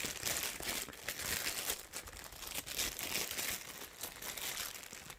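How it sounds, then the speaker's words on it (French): Packaging around a small battery-powered device with small brushes is unwrapped, producing continuous faint crinkling and rustling of plastic and paper close by, with no talking. "Voilà, je déballe."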